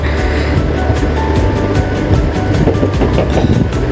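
Loud, continuous rumble of a passenger train in motion on the Kamalapur to Mawa line, passing Narayanganj, Bangladesh, heard from inside, with rhythmic clacking of wheels over the rails and no voices.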